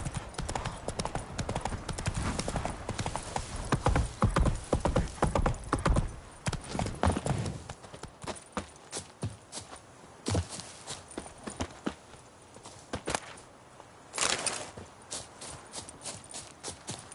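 The horse Roach walks in The Witcher 3, its hooves making a steady, close clip-clop that is loud at first and then thins into softer, scattered steps, with a brief whinny-like sound.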